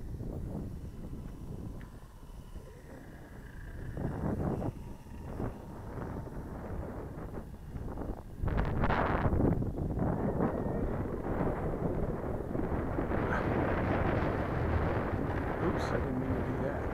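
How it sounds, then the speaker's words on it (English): Strong gusty wind buffets the microphone at a model airplane flying field, a loud roaring rumble that swells and stays heavy toward the end, with a voice talking under it early on. "Wind's blowing"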